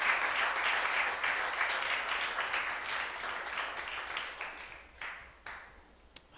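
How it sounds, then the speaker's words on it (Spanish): A church congregation claps together in sustained applause that gradually thins and fades, ending in a few scattered claps. "Dale otro aplauso"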